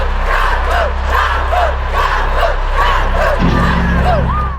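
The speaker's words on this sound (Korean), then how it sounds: "우는 막내를 향해 9만 명이 응원 구호를 시작한 겁니다." A stadium crowd of 90,000 at the final concert of a Europe tour chants cheers for a band member, loud and continuous, the rhythmic chant rising and falling in repeated phrases.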